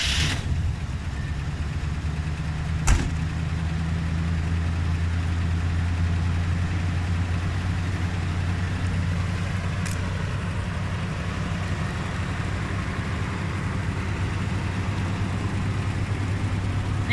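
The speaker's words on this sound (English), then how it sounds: "let me start it up and you guys can hear it. It's only a 305, but it does run really well." A 1977 GMC C10 pickup truck with a 305 engine idles steadily, a low, even rumble that stays close and unbroken throughout, with a single sharp click early on.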